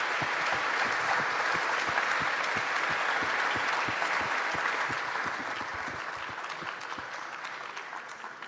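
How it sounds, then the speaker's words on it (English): An audience at an evening session gives panelists a final round of applause, dense sustained clapping from a crowd that slowly thins and fades toward the end. "So please give a final round of applause to our amazing panelists."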